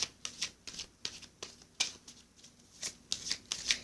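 Gemstone oracle cards are shuffled by hand, a series of quick, crisp riffling bursts and soft slaps in an uneven rhythm, close and fairly quiet with no talking.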